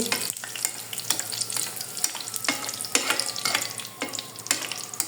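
Mughlai paratha with egg and chicken frying in oil, a steady close sizzle and crackle broken by several sharp scraping knocks from a spatula or pan, with no voices.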